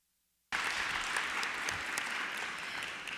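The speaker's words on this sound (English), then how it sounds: "I would ask for a round of applause for this panel." An audience at an Organization of American States event applauds a panel, the clapping bursting in abruptly after a half-second of silence and continuing as a dense, steady round at moderate distance.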